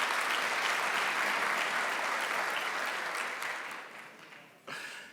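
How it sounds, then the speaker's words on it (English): A civic audience at a county State of the County address gives a steady round of applause that gradually thins and fades, with a brief final burst near the end. "Let's give them a round of applause"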